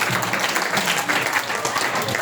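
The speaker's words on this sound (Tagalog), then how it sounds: "Bigyan nyo nga po ng 10 palakpak ang ating Panginoon." A church congregation at a Filipino sermon claps together, a dense, lively burst of applause that stays steady and loud throughout.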